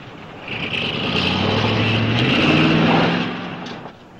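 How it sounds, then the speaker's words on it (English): A car approaching on a detour road, an engine hum that swells gradually to a steady peak and then fades slightly, moderately loud with no talk. "I think I hear a car coming."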